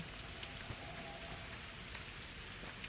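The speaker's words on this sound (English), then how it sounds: "it's pissing down at the moment. Heavy rain." Heavy rain in the video game Pathologic 2 makes a faint, steady wash of falling water with scattered brief drip ticks, and no one speaks over it.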